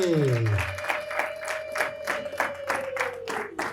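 An audience claps in a steady, rhythmic beat, about three claps per second, with a sustained tone humming underneath.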